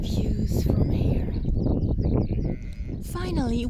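Sheep bleat near the shore at Mont Saint Michel, a few wavering calls standing out against steady talk and outdoor background noise, with a clearer bleat near the end.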